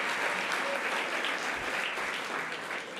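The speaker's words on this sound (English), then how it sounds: "Let's give her a hand of applause for that." An audience applauds at an event where an actress is honored for her film performance, a dense, steady wash of many hands clapping at once, continuous and fairly loud for the whole stretch without any voices standing out.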